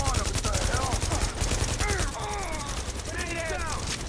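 Sustained rapid gunfire in The Division, continuous automatic bursts with whizzing and ricochet-like sweeps over a dense battle din, with a voice talking over it.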